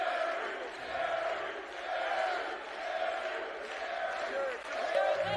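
A wrestling crowd roars and cheers in a continuous distant wash of voices that swells and eases, with a commentator's voice faintly underneath.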